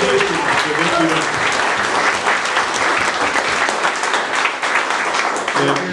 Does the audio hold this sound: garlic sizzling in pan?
no